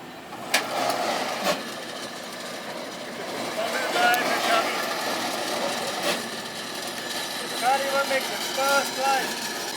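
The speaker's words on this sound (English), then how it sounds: "That's the sound of the roller turning." Test rollers spin beneath a Honda HR-V during a traction test, giving a steady mechanical whirr with a few sharp knocks. Voices talk over it throughout.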